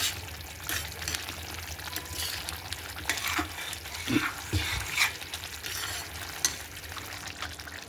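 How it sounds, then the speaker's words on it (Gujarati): Dry fenugreek leaf curry (suki methi shak) stirred in a pan: scraping, clinking spoon strokes and soft bubbling in an irregular rhythm, close and moderately loud, with no talk. "હવે હલાવી દેવાની."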